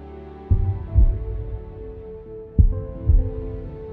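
A deep heartbeat sound effect thumps in two double beats, lub-dub pairs spaced about two seconds apart, loud and low against a faint hum.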